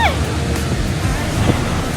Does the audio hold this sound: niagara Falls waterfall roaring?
yes